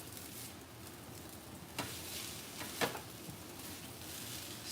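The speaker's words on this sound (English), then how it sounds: "stir fry rice quinoa with eggs" Rice and quinoa stir-fry with eggs crackles softly in a hot pan, a quiet steady sizzle broken by a couple of sharper scrapes and taps from stirring.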